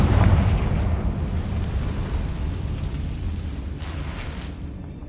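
A Confringo blasting spell goes off in Hogwarts Legacy, a loud booming explosion at the start that rolls into a long, rumbling, crackling decay, with no voices over it.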